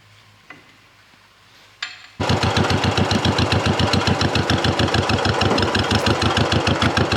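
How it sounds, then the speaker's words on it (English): After a quiet start with a couple of clicks, a tractor engine suddenly starts and runs loudly with a steady, rapid chugging throb close by. "I just got the planter grease hooked up to the tractor"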